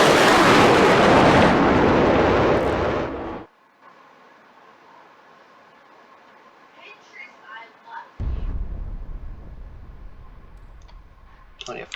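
An artillery shell from the Minecraft Warium mod exploding after splitting into four, a loud roaring blast that cuts off abruptly, then quiet with faint clicks before another heavy rumbling boom.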